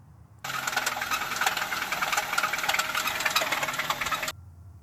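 An old Honda Civic engine cranks and catches, then runs roughly with a loud rattling knock for several seconds before cutting off abruptly.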